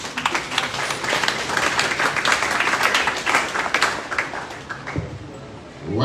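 An audience at a Sierra Leone Police training event claps in a dense, lively round of applause with a roomy crowd murmur. It fades toward the end as a speaker's voice comes back in.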